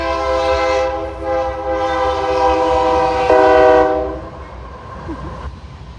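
A long train rolls past close by, its loud sustained horn blaring over the rumble of wheels and cars for several seconds before fading.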